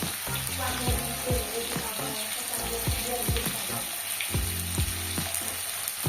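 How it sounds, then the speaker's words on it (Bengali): Tomato fries with salt, turmeric and chilli powder in a pan, a steady close sizzle broken by repeated scraping stirs with a spatula, and no voices. "টমেটোর সাথে ভালোভাবে একটু ভেজে নেবে স্বাদ অনুসারে নুন হলুদ গুঁড়ো লঙ্কা গুঁড়ো"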